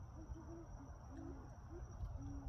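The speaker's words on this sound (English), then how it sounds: "You hear the owls?" Owls hoot at night, with several short tonal calls repeating at an irregular pace over a steady background hum, moderately distant and faint.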